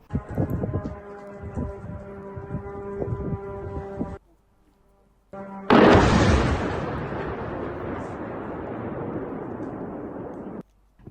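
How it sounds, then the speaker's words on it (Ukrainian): Distant heavy booms near an oil refinery and a sustained low rumble, with a loud roaring blast about halfway through that lingers for several seconds. "вибухи у районі НПЗ зафіксували місцеві жителі"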